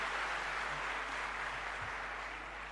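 An audience claps at the inauguration of Khadi Mahotsav and Silk Expo 2021 in Lucknow. The clapping is a fairly faint, steady, even wash that fades slightly toward the end.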